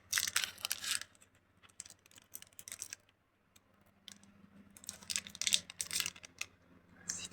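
Bursts of crinkly plastic tearing and rustling as a Pokémon Chaos Ascendant booster pack is opened, several separate rips with quieter pauses between, close up with no talking.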